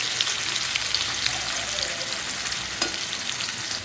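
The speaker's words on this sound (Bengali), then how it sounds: "আমি আলুটা কিন্তু এই এলাচ দিয়েই ভাজছি" Potatoes frying in hot oil with cardamom for aloo dum, giving a loud, steady, close sizzle and crackle that runs throughout with no talking.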